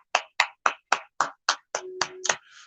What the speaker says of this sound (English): Everybody give him applause.